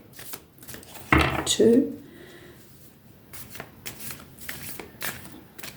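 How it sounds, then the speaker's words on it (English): Tarot cards shuffled by hand at a reading, giving a short, crisp riffle burst close to the microphone, followed by softer handling rustles while a voice counts aloud. "just 3 more shuffles, I'm being told here"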